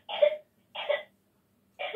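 Three separate coughs from one person, evenly spaced with quiet gaps between them, fairly close and clear with no talking.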